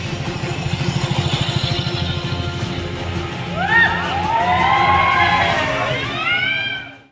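Youths performing motorcycle stunts on a ring road in Ranchi, with loud, steady engine noise and several rising revs, while a crowd cheers and shouts throughout.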